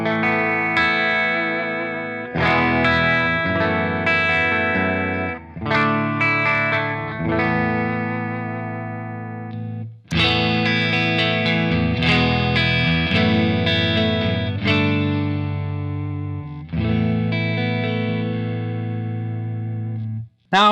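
Modern Strat-style electric guitar fitted with Bare Knuckle pickups, played through a Revv G20 amp, rings out in sustained distorted chords and phrases, loud and continuous with brief pauses, no talking.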